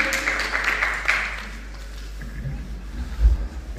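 A crowd at a Pakistani inter-university competition applauds, with a dense burst of clapping that fades away within about a second and leaves low room murmur.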